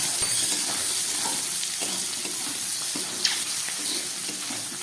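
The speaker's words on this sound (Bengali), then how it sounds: "আমার আলু, ক্যাপসিকাম আর মটরশুঁটিটা ভাজা হয়ে গেছে" Potatoes, capsicum and peas fry with turmeric in a pan for a broccoli dish, giving a steady soft sizzle with occasional scrapes and light clinks of stirring throughout, no talk.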